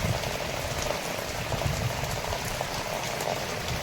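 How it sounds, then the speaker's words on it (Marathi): Heavy unseasonal rain driven by strong wind at night in Bhiwandi, a dense, steady hiss of downpour drumming on surfaces with no pauses. "खूप जोराची हवा सुटले आणि खूप जोरात पाऊस आलाय"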